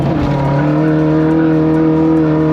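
A 1.9-liter turbo drag car engine, remapped with a copper-blend clutch, revving hard in second gear, a loud, close, sustained droning roar with a steady high pitch.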